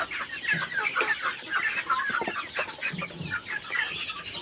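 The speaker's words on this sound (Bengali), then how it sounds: "লোকাল মুরগি" Local chickens cluck and chatter continuously on a poultry farm, a dense, busy chorus of many birds close by with no talking.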